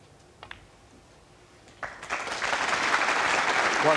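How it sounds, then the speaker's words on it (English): Audience applause breaks out at a 2016 Champions snooker match after near silence with a couple of faint clicks, swelling into a steady wash of clapping from a hall crowd that keeps building to the end. "A well-deserved round of applause."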